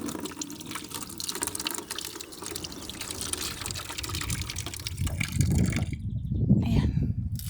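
Water gushes and pours close by while garden vegetables are washed, a steady splashing flow that grows heavier and deeper toward the end.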